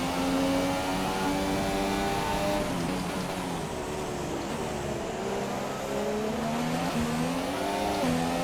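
Stock McLaren Honda Formula 1 car at Suzuka in a racing game, engine whining steadily at high revs with rising and falling pitch through gear changes, loud and up close.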